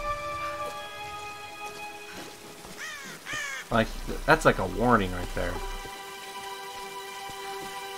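Rain falls steadily in Tomb Raider (2013) as a soft broadband hiss, with crow caws rising briefly in the middle and a person talking over it.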